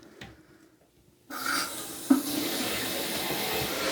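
A cold water tap is opened and water rushes into a toilet tank in a bathroom, starting abruptly after near silence as a steady, close hiss with a small knock partway through, and no talk.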